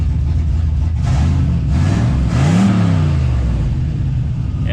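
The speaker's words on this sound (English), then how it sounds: "let's give it a little rev here" A 1974 Chevrolet C10 squarebody with an LS-swapped turbo engine and open exhaust revs up several times, rising and falling in pitch over a loud, steady idle rumble, close by and without talk.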